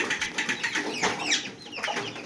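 A rooster clucks in short, repeated bursts close by, several calls in quick succession at a home yard, with no talking over them.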